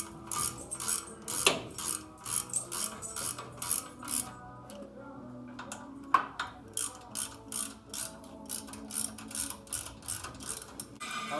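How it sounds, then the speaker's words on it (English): Rapid ratcheting clicks in quick repeated bursts come from a socket wrench tightening screws during a brake job on a 1992 Chevrolet Silverado pickup, close by and fairly quiet with brief pauses. "Screw these into here. Make sure they're good and tight."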